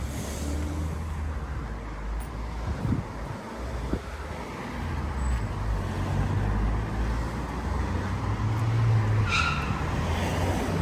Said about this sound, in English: Everyone seems to be in a bit of a hurry today with all the wheels squealing that's going on.